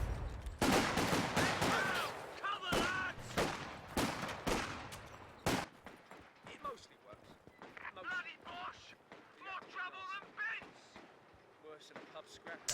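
Rapid gunfire crackles in a Company of Heroes 2 multiplayer battle, with loud, dense bursts through the first half that thin to scattered shots, and a voice talks over it.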